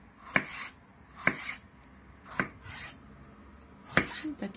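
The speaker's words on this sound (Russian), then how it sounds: "Сейчас я лук и перец я порежу руками, да, ножом." A knife chops bell pepper in four distinct, evenly spaced strokes against a cutting board, close and fairly quiet, with no talking.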